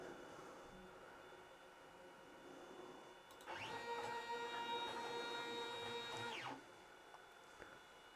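CNC foam cutter upgraded with an MKS Gen L V1.0 board, its stepper-driven axes moving: a steady whining tonal hum with stacked pitches starts mid-clip, holds for about three seconds and stops, over quiet room noise.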